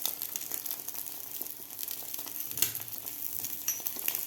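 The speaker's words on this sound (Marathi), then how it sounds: "आता व्यवस्थित आपलं अंडं फ्राय झालेलं आहे" An egg fries in a pan seasoned with salt, coriander, onion and chilli, giving a faint, steady sizzle and crackle with a few soft stirring clicks.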